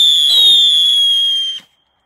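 Three pyrotechnic firecrackers set off together give a piercing, sustained whistling shriek with layered tones that holds steady and then cuts off abruptly, followed by silence.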